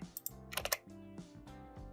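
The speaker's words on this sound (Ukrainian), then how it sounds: "на клавіатурі натиснемо комбінацію клавіш Ctrl-V" Computer keyboard keys are pressed close by, including a Ctrl-V paste combination, giving a quick burst of crisp clicks followed by a few spaced, lighter taps, with no talking.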